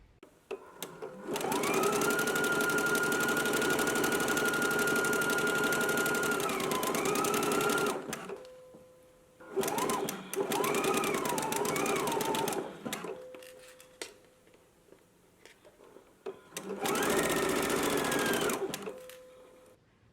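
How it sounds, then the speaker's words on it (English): A sewing machine stitches a neckband in place on a McCall's 8354 garment, running in three loud steady bursts of rapid whirring with short pauses and speed changes between them. "Let's go ahead and stitch it in place now."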